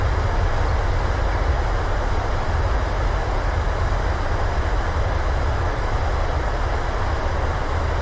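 Steady, loud jet engine roar of a Boeing 737 (PMDG) using thrust reversers on landing rollout in Microsoft Flight Simulator, a continuous broadband rush with no talking.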